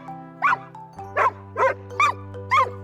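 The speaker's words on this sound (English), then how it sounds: "D for dog." A dog barks five times in an even rhythm, each bark sharp and close, with a steady low hum behind and no talking.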